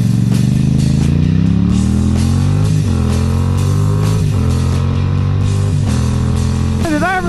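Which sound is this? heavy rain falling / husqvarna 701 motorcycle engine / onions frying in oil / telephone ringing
husqvarna 701 motorcycle engine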